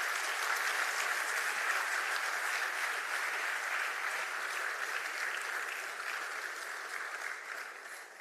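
An audience applauds after a speech at a retail congress, a dense, even round of clapping that stays steady and slowly fades toward the end.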